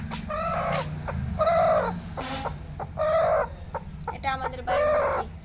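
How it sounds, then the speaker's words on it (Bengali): A domestic hen that has just laid an egg clucks and cackles in repeated loud bursts close by, over a low steady hum. "এটা আমাদের বাড়ির মুরগি। ডিম পাড়ছিল, এখন এসেছে।"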